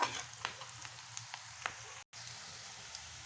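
Onions frying in a pan for a goat head meat curry, giving a steady, fairly quiet sizzle with scattered crackles and pops and one brief dropout partway through.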